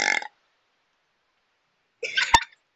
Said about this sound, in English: That was a burp.